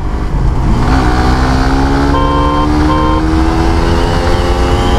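A stock-engined Suzuki GSX-R 150 motorcycle accelerates in the rain, its engine note climbing steadily through the revs, loud and close throughout.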